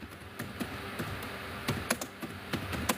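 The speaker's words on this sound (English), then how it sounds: "You hear my keyboard? It sounds heavy." Heavy keystrokes clack on a computer keyboard in uneven bursts, close and fairly quiet, with a faint hum underneath.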